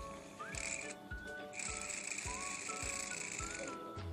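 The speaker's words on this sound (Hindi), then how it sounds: "देखिए हम इसमें और बड़ा ड्रिल करेंगे।" A homemade drill driven by a small DC motor bores into a wall with a high, whining buzz that starts and stops in bursts, over rhythmic knocking thumps, fairly close but quiet overall.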